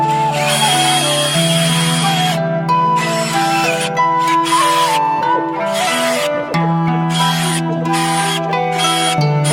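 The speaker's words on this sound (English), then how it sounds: "just drill them right off" A loud, continuous power drill whines steadily, its pitch shifting slightly as it bites through wooden harp center ribs, running almost without pause throughout.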